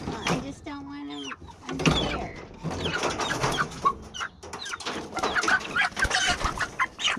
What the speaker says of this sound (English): Poor little chicken.